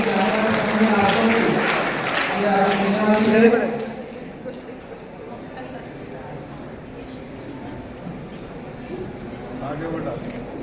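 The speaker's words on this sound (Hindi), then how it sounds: "जोरदार तालियां बजाएं उनके सम्मान के लिए।" A crowd at a student and guest honouring ceremony applauds loudly for about four seconds, then the clapping fades out as a voice continues talking over faint room noise.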